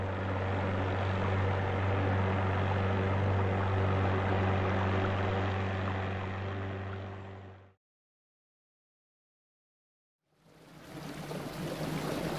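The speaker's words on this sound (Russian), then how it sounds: "Скоростная лодка." Speedboat on the water: a loud, continuous motor whine with strong low tonal hum and spray noise for nearly eight seconds, cutting to silence, then a hissy burst of water and engine resuming.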